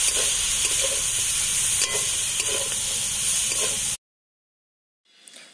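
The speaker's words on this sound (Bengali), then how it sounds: "আবারও কিছুক্ষণ সবজিটাকে ভেজে নেব।" Vegetables frying in a pan with turmeric and chili powder give a loud, steady sizzle with stirring scrapes, then cut off to near silence before a faint hiss returns at the end.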